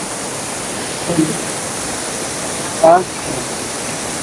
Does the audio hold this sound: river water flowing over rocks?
yes